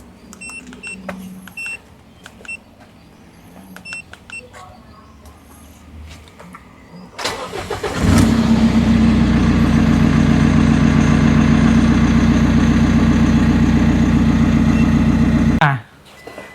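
A car with a faulty fuel pressure regulator and a warning light on cranks and starts, then idles loudly with a steady rumble for about eight seconds before shutting off, after quieter clicks and handling noises.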